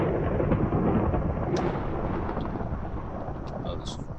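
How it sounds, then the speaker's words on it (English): Thunder from lightning on Venus in Minecraft rolls as a dense, continuous low rumble with rain-like hiss, loud and steady, gradually easing toward the end. "Whoa, you see that lightning?"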